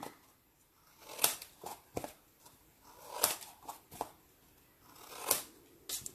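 Scissors snip the corners of a glued cardboard box, giving sharp isolated cuts and crisp crinkles at irregular intervals against quiet, with no talk.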